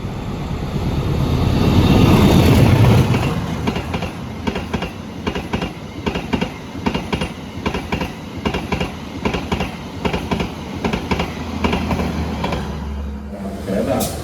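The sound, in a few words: passenger train running on rails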